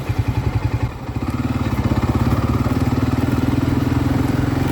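A Voge 300 Rally motorcycle rides with a broken rear hub, its engine chugging loud and close in a steady pulsing rhythm, with a wobbling clatter that builds after the first second.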